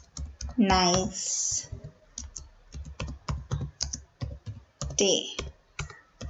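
Fingers tap rapidly on a computer keyboard, producing a dense, uneven stream of close, crisp key clicks while a voice speaks briefly twice over the typing.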